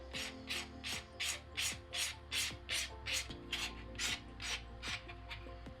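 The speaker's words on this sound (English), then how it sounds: "I'm gonna remove the shine of the top coat on the index and ring finger." A nail buffer rubs back and forth across gel-polished fingernails to take the shine off the top coat, making about a dozen rhythmic, close, raspy scrubbing strokes over faint background music.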